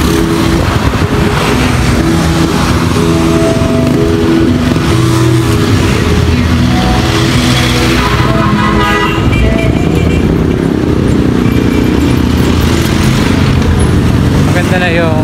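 Busy city street traffic heard during a hot daytime walk, with cars and motorcycles passing close by, engines revving and a horn tooting amid a dense, continuous roar, with voices talking over it throughout.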